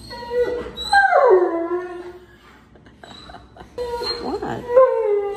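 An Alaskan Malamute, a big male dog, howls and whimpers at a veterinary clinic, with two drawn-out, wavering vocal bursts separated by a quieter pause, loud and close.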